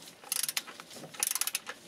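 A ratchet works the oil sump bolts on a 2007 Peugeot Partner 1.6 HDi, giving two quick runs of fast, faint clicks close by.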